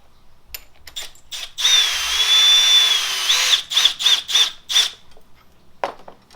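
A power drill tightens a coil spring compressor on a 2012 Nissan Sentra strut, whirring in one long steady run and then a series of short bursts, loud and close, with brief clicks in between.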